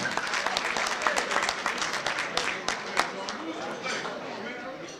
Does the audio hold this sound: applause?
yes